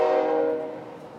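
A train horn blares loud and sustained with a steady rumble beneath, fading gradually as the train passes; no voices.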